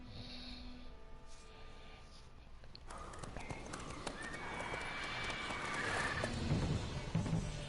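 Roach the horse from The Witcher 3 video game, hooves clip-clopping and then breaking into a gallop that grows louder, with a whinny and game music and ambience around it.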